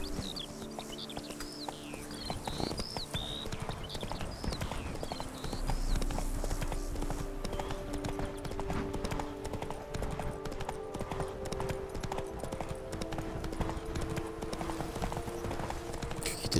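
Horse hooves clip-clop in a steady trotting rhythm throughout in the video game The Witcher 3: Wild Hunt, with bird chirps near the start and a low droning background underneath.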